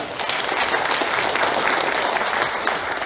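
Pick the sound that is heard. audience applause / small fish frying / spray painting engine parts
audience applause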